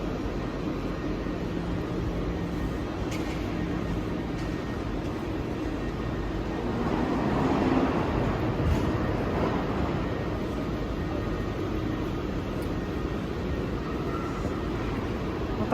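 A long train rumbles past steadily at a station, a continuous low rolling roar that swells slightly midway and then holds steady with faint squeaks and clanks above it.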